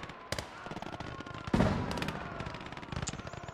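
Anti-tank grenades explode in the Gates of Hell: Ostfront war game. Sharp crackling bursts of gunfire build up before one loud, heavy blast at mid-clip, followed by a rumbling tail and further scattered pops.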